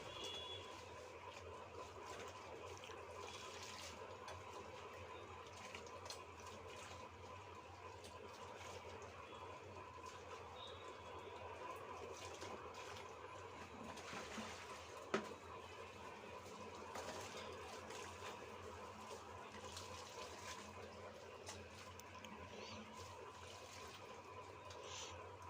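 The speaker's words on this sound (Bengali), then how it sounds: "এখন আমি চিংড়ি মাছগুলোকে একটু ধুয়ে নিচ্ছি।" Tap water runs continuously while shrimp are rinsed in a home kitchen, a steady close splashing wash that holds for the whole stretch with a brief clatter near the middle.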